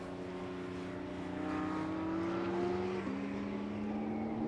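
Porsche GT3 and Pagani supercars driving past at a car meet, a steady loud engine drone with sustained tonal whine that rises and shifts as they pass close by.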